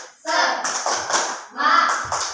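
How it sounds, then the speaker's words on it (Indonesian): A school class in Indonesia claps out the rhythmic tepuk semangat cheer, with bursts of hand claps in two patterned groups. Voices chant along over the clapping. "Ayo kita coba untuk tepuk semangat."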